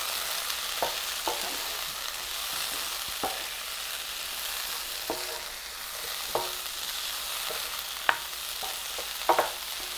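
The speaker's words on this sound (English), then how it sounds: "Now I'm going to add some garam masala. Give it a good mix." Turkey berry and potato curry with garam masala being stirred in a pan, a soft steady sizzle broken by scattered scrapes and clinks of the spoon, close with no talk.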